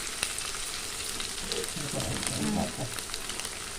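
Slit green chilies sizzle in hot oil in a pan for pakoda kuzhambu, a steady crackling hiss with a few brief bursts of louder spitting partway through.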